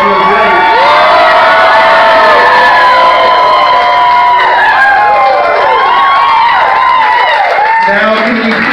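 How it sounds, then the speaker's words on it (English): Guests at a wedding reception cheer and whoop loudly, high shouts and excited voices overlapping in a constant, close crowd roar, with only faint clapping beneath. "Round of applause, everybody."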